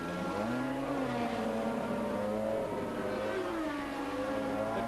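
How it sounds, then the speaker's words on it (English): A Lotus 94T Formula One car at the 1983 British Grand Prix, stopping in the pits; its engine holds a loud, steady drone with rising and falling pitch, with no talk over it. "Nigel Mansell at the wheel, the man from Hall Green who now lives at Port Erin in the Isle of Man, and he stops his car now."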